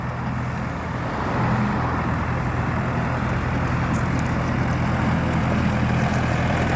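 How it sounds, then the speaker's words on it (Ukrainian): A four-cylinder diesel engine on a Jinma 404 mini tractor idles steadily and continuously, a low rumbling drone with a constant hum and no speech. "Чотирьохциліндровий дизельний двигун."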